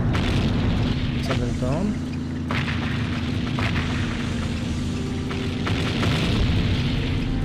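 Gravity bombs explode in the video game Seek and Destroy, several dull booms scattered through a steady game rumble while a German-speaking voice talks over them.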